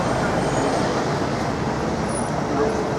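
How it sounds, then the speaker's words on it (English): Steady road traffic roar on Westminster Bridge in open air, a dense continuous wash of passing vehicles with no breaks, fairly loud throughout. "You telling me in the open air, you can hear all this traffic?"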